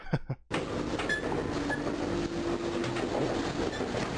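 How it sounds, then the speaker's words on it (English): A train in a Doom WAD video game starts up after a brief clatter, then rolls with a continuous rumbling rail sound, faint clicks and a thin steady tone running under it, with no talking. "Hey, look, it's a train again."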